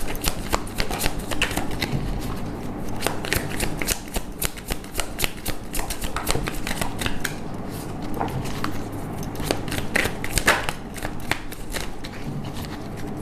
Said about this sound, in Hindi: लास्ट शफल है, किसी को आना है तो आ जाए।